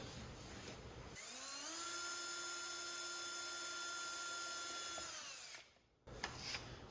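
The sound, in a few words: drilling out a hole with a step bit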